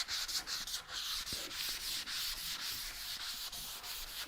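Steady scratchy sanding of oiled wood, raising up fibers, with a light rhythmic back-and-forth, close and continuous, no voices.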